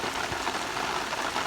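Unseasonal rain falls in Porbandar, Gujarat, with a soft, steady patter. The short stretch is fairly quiet and has no talking.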